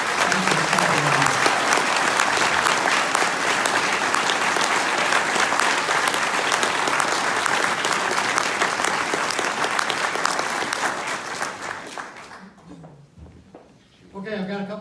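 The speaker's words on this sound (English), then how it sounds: "So can we all just give you a round of applause?" Loud, sustained applause from an audience at a community awards event, dense and steady for about twelve seconds before fading out, with cheers and voices mixed in near the end.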